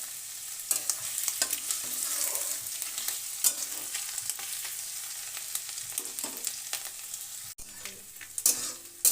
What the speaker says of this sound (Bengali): তেল গরম হয়ে গেছে, এবার দিয়ে দিলাম রসুন কুচি।